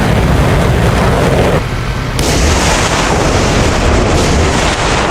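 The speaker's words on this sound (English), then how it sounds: "THAAD reacted first. It launched interceptors, and the rest to follow." Missile interceptors launching and exploding in an air defence video game, a dense, loud stretch of rumbling booms and bursts that stays steady throughout, with a brief dip in the middle before the roar picks back up.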